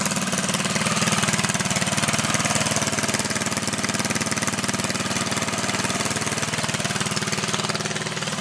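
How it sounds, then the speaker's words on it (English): A small mini bike engine idles steadily close by, a loud continuous buzzing putter with a rapid even beat that holds without a break throughout. "And we have the bike started right here."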